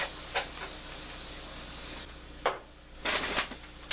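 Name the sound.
onions sizzling and being stirred in a pan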